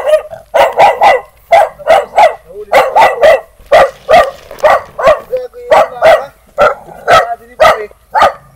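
A large dog barks repeatedly in loud, closely spaced bursts, near and steady throughout, in a rural Filipino yard where thatch is being made.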